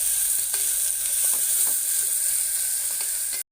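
Onion and green chilli sauté in hot ghee and oil in a pan, giving a loud, steady close-up sizzle with a few faint stirring clicks before it cuts off abruptly.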